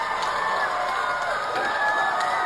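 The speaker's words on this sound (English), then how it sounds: "You can hear how long this applause is going on for." A packed room erupts in sustained applause mixed with cheering and whoops, a thick, continuous roar of crowd noise with no break.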